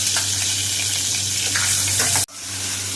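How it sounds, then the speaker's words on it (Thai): Fresh shrimp stir-fried in a pan with shallots and fried garlic, giving a loud, steady hiss and sizzle of hot oil that cuts off sharply for a moment and then resumes. "ก็ผัดกุ้ง ไปรวนกับ หัวหอมเกียวกับกระเทียมเจียว"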